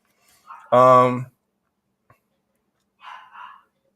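A dog gives one loud, full bark indoors, followed by a few faint, brief sounds and quiet.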